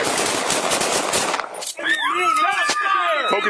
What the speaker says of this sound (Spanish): agentes de la policía de Idaho atinando 9 balazos en el cuerpo de Víctor Pérez